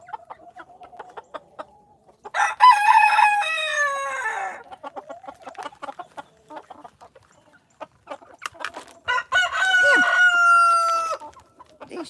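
Backyard chickens clucking near and loud, with a rooster crowing in two long, strong bursts separated by scattered clucks and pecking sounds.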